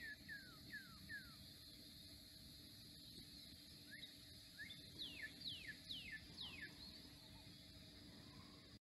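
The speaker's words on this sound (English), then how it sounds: "We got our day birds there making noise at civil twilight." Day birds call at civil twilight at dawn, giving repeated short, sweeping chirps from a distance over a faint constant background hiss, some calls coming in quick clusters.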